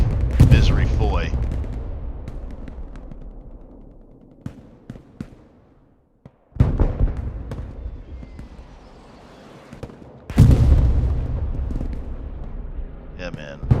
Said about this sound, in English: this artillery might get you back in the game